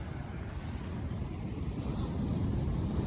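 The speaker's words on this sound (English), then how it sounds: "Nice sea rolling in." Sea waves rolling onto a north-east shoreline at dawn while fishing for spring codling, a steady low surf roar mixed with wind rumble on the microphone, continuous and building slightly.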